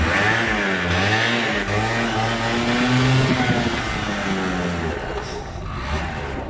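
A small scooter, kick-started, idles with a low, throaty engine note that revs up and down in uneven swells, close by and loud, then settles toward the end while a voice talks briefly.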